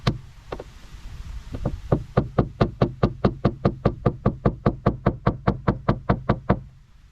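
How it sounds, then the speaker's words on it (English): A hammer knocking back a dent bulge on a Jaguar body panel: loud, close metallic taps, a few irregular strikes at first, then a steady rapid series of evenly spaced blows that stops abruptly. "you have to start knocking it back the way you've pulled it, but it's to get rid of this bulge"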